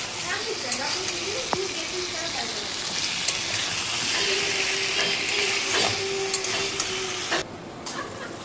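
A spoon stirs kuche fish curry with fried potatoes in a pan, a steady close sizzle with scraping and clinks throughout, easing off near the end.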